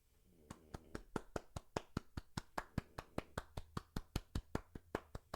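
A single pair of hands claps steadily and evenly, about four claps per second for several seconds, crisp and fairly close against a quiet background.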